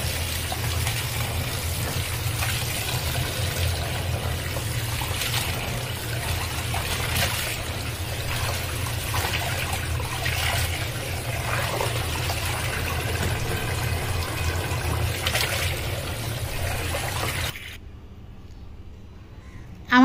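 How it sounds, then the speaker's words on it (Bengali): Running water trickles and splashes steadily as cut small river fish are washed, a continuous close pouring stream that stops abruptly near the end. "কেটে নিয়ে এখন পরিষ্কার করে ধুয়ে নেব।"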